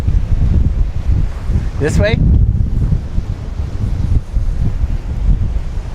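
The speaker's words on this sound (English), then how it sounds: "show them how windy it is" Strong wind at Port Canaveral roars steadily and loudly across the microphone in dense low buffeting, with people talking close by partway through.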